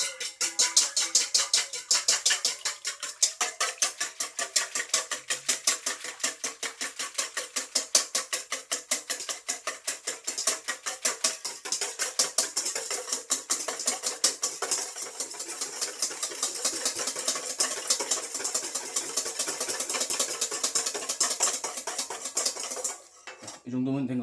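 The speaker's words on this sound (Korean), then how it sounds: "이렇게 물과 계란을 넣고 이거를 저어줍니다" Waffle batter of water and eggs stirred briskly in a bowl, a fast, steady metallic clinking and scraping of utensil against the dish running without pause, close and fairly loud, ending with a brief knock.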